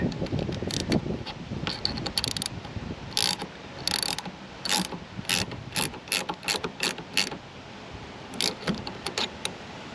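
A wiper arm puller is tightened on the rear wiper of a BMW X5 E70, giving a series of close, sharp metallic ratcheting clicks in irregular bursts.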